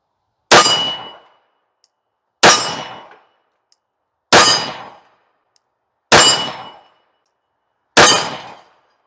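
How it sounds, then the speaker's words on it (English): MC1911 Influencer X pistol chambered in .38 Super, five loud, close shots at a steady pace about two seconds apart, each a sharp crack with a short ringing tail, no voices. "That 38 Super, I don't know if you could tell, super flat shooting around there."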